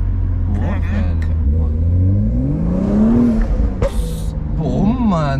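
A sports car engine revs loudly up and down at close range, its rising and falling drone running throughout while someone talks excitedly over it.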